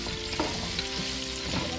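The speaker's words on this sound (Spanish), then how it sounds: "ya le voy a poner las papas para que se doren tantito" Potato pieces frying in oil in a pan for a potato and cheese soup, giving a steady close sizzle with a few soft stirring scrapes and no voices.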